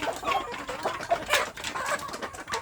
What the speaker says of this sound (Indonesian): Ini juga ayam kampung yang masa mengerami.